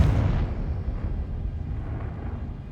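Confringo fire-blast spell exploding in Hogwarts Legacy, a loud close boom with a deep rumbling blast that trails off over a couple of seconds.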